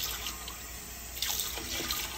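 Tap water runs steadily while an otoscope cleaner tube is rinsed and scrubbed with a brush at a sink, a soft close splashing that swells briefly partway through.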